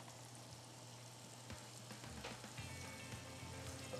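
Southern fried chicken pieces frying in hot oil, a steady quiet sizzle and crackle with occasional pops and soft handling noises, heard alone.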